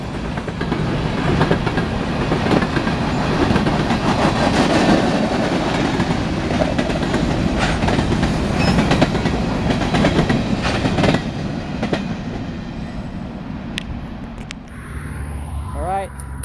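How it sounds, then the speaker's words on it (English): A grain train crawls forward on rails, a steady loud rumble and clatter of cars rolling past close by for the whole stretch, easing slightly toward the end. "After waiting in the hole for the grain train, it began to crawl forward"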